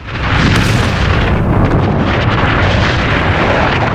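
Strikes on military sites set off loud, sustained explosions, a continuous roaring, rumbling blast with no break and no voices over it.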